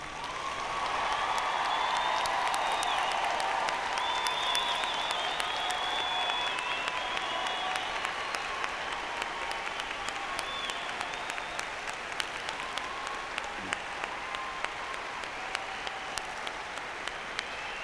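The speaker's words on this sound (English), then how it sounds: "join me in a round of applause for the sacrifices and service you have" An arena crowd at a horse-training event's opening ceremony applauds service members and veterans, a broad, steady roar of clapping that holds at an even level throughout, with a few distant whistles and cheers in the mix.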